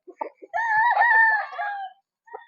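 A Boston Sweater gamefowl rooster crows once, a loud, close, drawn-out call of about a second and a half, framed by a few short clucks before and after.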